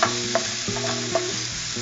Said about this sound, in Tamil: நெய்ல நல்லா வறுத்து எடுத்ததுக்கு அப்புறமா சின்ன சின்ன பீசஸா கட் பண்ணி வச்சிருக்கிற பைனாப்பிள் சேர்க்கிறாங்க